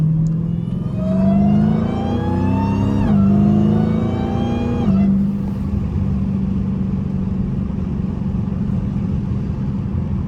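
A Dodge Hellcat's V8 engine revs up with a rising whine while driving, then settles into a steady, loud cruising drone inside the car.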